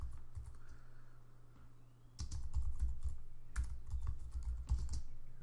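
Close, quiet keystrokes on a computer keyboard, tapping in short irregular bursts over a low steady hum.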